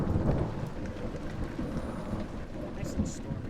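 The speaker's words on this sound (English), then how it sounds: "Nice little storm outside." A thunderstorm rages outside in the horror game Amnesia: The Dark Descent: steady, dense rain hiss with a low rumble of thunder underneath, fairly quiet and continuous throughout.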